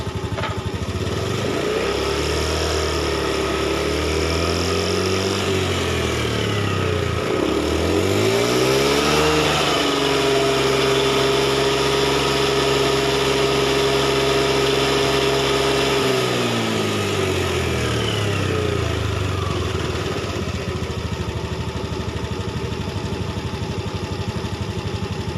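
Honda Beat ECO motorcycle engine, suffering a sputtering fault, revved from idle up to a sustained high pitch and then dropping back, loud and close with no talk.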